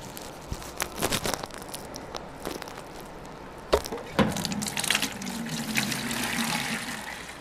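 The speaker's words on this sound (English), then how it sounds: "we need to put some water in this bucket." Water runs into a bucket for a goldfish water garden built from an IBC tote, a steady splashing flow with clunks and knocks, growing fuller and louder toward the end, with no one talking.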